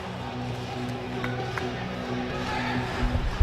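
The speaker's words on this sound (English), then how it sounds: "The crowd getting into it now." Crowd in a high school girls' basketball gym between Lynn Vocational Tech and KIPP Academy, a steady murmur of many voices with faint tonal music beneath and a few louder shouts and bumps near the end.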